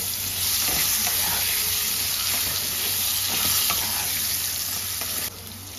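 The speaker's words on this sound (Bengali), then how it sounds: "আলু আর বেগুনটা হালকা ভাজা হয়ে গেছে, এবার এর মধ্যে একটু হলুদের গুঁড়ো দিয়ে দিলাম, একটু লবণ দিয়ে দিলাম। এবার ভালো করে মিশিয়ে নেব।" Potatoes and eggplant frying in oil with turmeric and salt added, a loud, dense, continuous sizzle close up, with light stirring taps running through until it eases slightly near the end.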